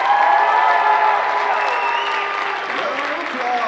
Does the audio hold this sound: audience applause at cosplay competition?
yes